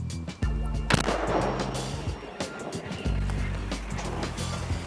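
Heavy booming blasts from a large self-propelled howitzer ring out over a loud, steady engine rumble, with several sharp reports spread across the clip.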